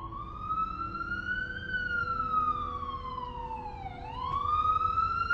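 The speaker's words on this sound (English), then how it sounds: "You saw those police sirens?" A police siren in a video game wails in long rising and falling sweeps, heard at moderate distance over a low rumbling background.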